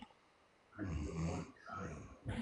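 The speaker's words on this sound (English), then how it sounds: "are you snoring? She is." Slow, rasping snores close by, two long drawn breaths with a pause between, then the start of another, in an otherwise quiet room.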